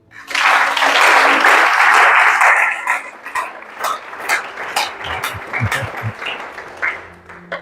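A church congregation bursts into loud, dense applause for a few seconds, then it thins into scattered claps and rustling before fading.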